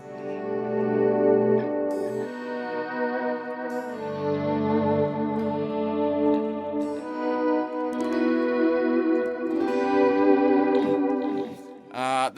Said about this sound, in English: The third sound is completely chorus.